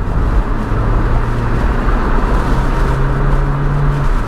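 Steady loud drone of the four-cylinder engine in a salvage 2004 Mitsubishi Outlander, heard close with a faint rising tone as the engine is given gas, with no talking.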